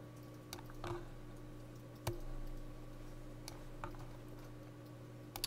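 Sparse computer mouse clicks while drawing with a pen tool, a handful of sharp, close clicks spaced irregularly over a steady low electrical hum, with no voices.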